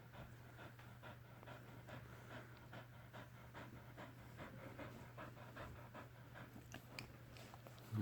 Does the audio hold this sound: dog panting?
yes